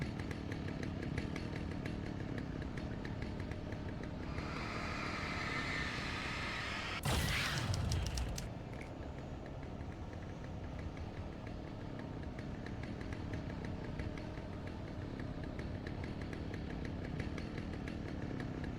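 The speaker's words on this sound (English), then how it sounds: "Do you think they like let the sound designer like go buy a chainsaw for this audio" Chainsaw in the video game Alan Wake, a steady idling buzz that surges into a brief louder rev partway through, then settles back to a continuous drone with no talking.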